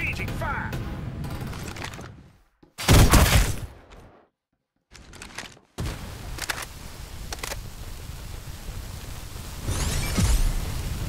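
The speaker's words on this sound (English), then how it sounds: "Exchanging fire." Rapid automatic gunfire and explosive bursts from a firefight in the battle royale game Farlight 84, loud and close, with a pause of near silence midway and game sounds resuming after.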